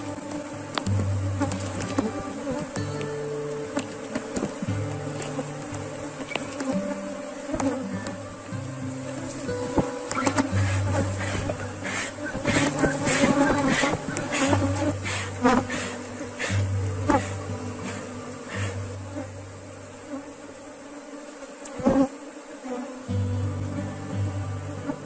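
A honeybee swarm hums steadily at a beehive in an apiary, a dense close buzz with brief louder passes of individual bees and some handling knocks.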